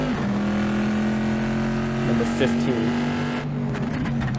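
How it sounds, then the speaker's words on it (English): Race cars in a Trans Am eChampionship sim race at Laguna Seca drone steadily close by, one car pulling past with rising engine pitch and a brief tire scrub, all under continuous commentary. "he'll get passed by that car"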